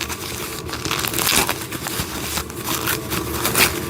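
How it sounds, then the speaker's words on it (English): Packaging being unwrapped from wooden train set pieces, continuous close crinkling and tearing of plastic and paper with rustling handling noise throughout. "Let's unwrap this."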